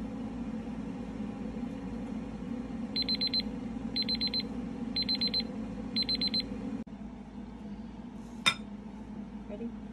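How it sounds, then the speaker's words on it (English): A kitchen timer beeps in four quick bursts of rapid chirps, clear and close over a low steady hum, while banana oat muffins are being made. "all we have left is waiting for the timer to go off"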